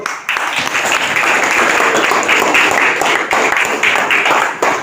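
Loud, dense clapping from an audience at a gathering, continuous and close throughout after a sudden start, with no voices over it.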